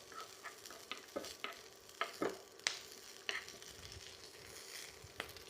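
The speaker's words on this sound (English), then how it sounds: "some chopped up red onion. Whoops. We're just going to fry that for a little while." Chopped red onion fries in olive oil in a pan, giving a faint, soft sizzle broken by scattered stirring scrapes and light clicks of a utensil.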